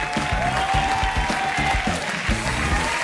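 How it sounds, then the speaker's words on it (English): A studio audience at a singing competition results show applauds in a steady round of clapping, with a sustained tone and rhythmic low thumps running underneath. "Please give a warm round of applause for Serena and Sufi."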